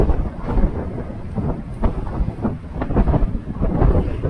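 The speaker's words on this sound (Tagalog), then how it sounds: "Tayo lakas ng hangin ah." Strong wind buffets the microphone on a moving electric mountain bike in a loud, uneven rumble that rises and falls without a break.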